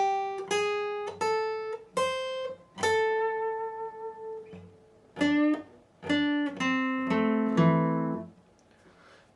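The fourth part of a guitar solo is played slowly on guitar, with single sustained notes and bends rising into a few ringing double stops, clear and alone.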